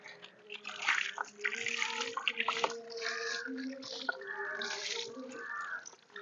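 Running water splashes steadily from a hose onto an animal being bathed, with intermittent voices and some background chatter mixed in throughout.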